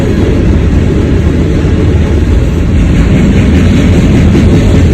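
A long train of coal cars rolls steadily past at close range, its loud, continuous low rumble and rail noise filling the scene without any talk.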